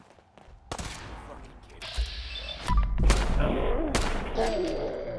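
Gunfire and explosive booms in the video game Fallout 4, several loud sharp bursts and thuds building up over a noisy battle bed, with a voice speaking briefly.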